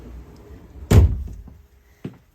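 A pocket door in the living quarters of a 2022 Lakota Charger horse trailer slides shut with a loud thump, then a softer knock a second later, in a quiet interior.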